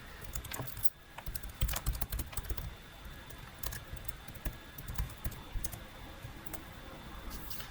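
Computer keyboard typing at a desk, rapid irregular clicks and taps running steadily and close throughout, with no talking.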